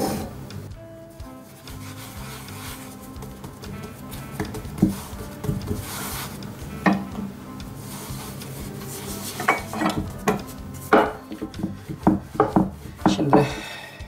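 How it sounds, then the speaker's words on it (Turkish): Dough for spinach börek rolled out by hand on a board, a soft continuous rubbing and rolling with light wooden knocks and taps growing busier toward the end, close and quiet, no speech. "Şimdi ben hamurumu açmaya başlıyorum."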